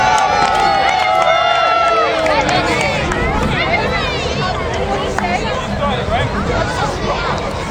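A festival crowd at a knights fighting show cheers and shouts together, loud and continuous, with many overlapping voices whooping and calling throughout.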